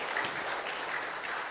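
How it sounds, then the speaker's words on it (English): A conference audience at an international tax conference gives hearty applause to three presenters, a thick, continuous burst of many hands clapping at once, close and fairly loud, with no speech. "please once again I ask you to give big applause for our 3 presenters here"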